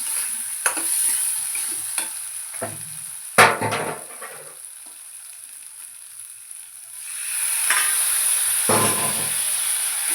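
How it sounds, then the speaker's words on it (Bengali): Pointed gourd (potol) sautéing in a pan with chopped tomatoes and water, a soft sizzle and hiss broken by sharp clatters of a spoon stirring, close and without talk. "তো জল দিয়ে একটু ভালো করে কষাবো এটাকে।"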